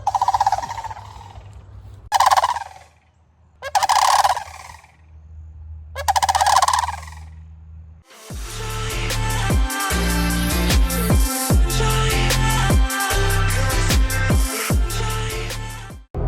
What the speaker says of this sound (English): the sandhill cranes are here and they're making it known